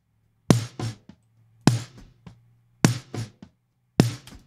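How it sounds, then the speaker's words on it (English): An isolated parallel-processed snare channel, saturated and punchy, hitting four times at an even tempo with quick ghost strokes after each, over a low steady hum and no talking. "And then the parallel process all by itself sounds like this."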